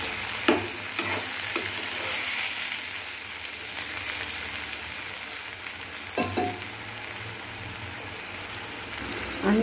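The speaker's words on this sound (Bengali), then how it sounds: "আমি এই জন্য অল্প জল দিয়ে এবার নাড়াচাড়া করে ঢেকে দেব।" Mixed vegetables for a Bengali hilsa-head sabji (potato, pointed gourd, drumstick, pumpkin, flat beans) stirred in a pan with a little water, a continuous close sizzle broken by several sharp spoon scrapes and knocks, no voices.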